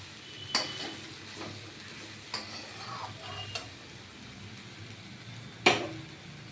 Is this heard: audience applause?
no